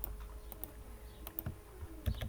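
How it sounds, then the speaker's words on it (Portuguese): Faint, irregular clicks of typing on a computer keyboard, scattered single keystrokes close by in an otherwise quiet room. "Eu estou digitando errado, perdão."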